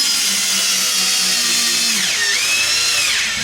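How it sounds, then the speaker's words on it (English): A power drill runs slowly as it drives screws into wood while building a bench seat for a DIY travel trailer. Its whine is continuous and loud, dipping in pitch and then recovering near the end. "just give it a little hole, and then put your screws in there. Nice and slow, you don't have to ratchet in there like it's warp speed."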